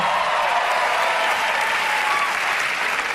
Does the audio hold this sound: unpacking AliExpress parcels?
no